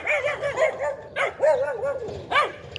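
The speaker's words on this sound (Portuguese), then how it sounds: "É só cachorrinho, gente." Small puppies yip and bark in short, high bursts, several close yelps with a few whimpering tones mixed in, loud and near with no talk.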